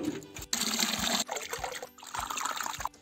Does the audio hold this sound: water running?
yes